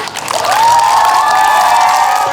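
A crowd cheers and claps together, a dense roar of applause with shouting voices rising over it.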